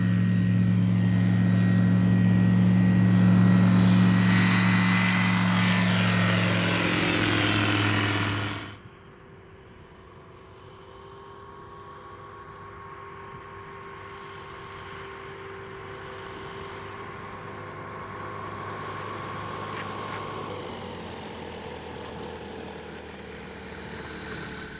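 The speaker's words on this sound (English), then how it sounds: "Another STOL aircraft is the Zenith STOL-CH701." Steady propeller engine drone of a Zenith STOL-CH701 short-takeoff aircraft, loud at first and then dropping abruptly to a quieter, continuous hum.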